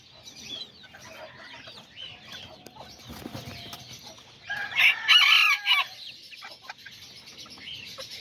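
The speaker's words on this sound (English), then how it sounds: "And I got this chicken right here." Serama chickens in a backyard flock crowing and clucking, a loud rooster crow bursting out near the middle among softer scattered clucks and chirps, fairly close with no talking.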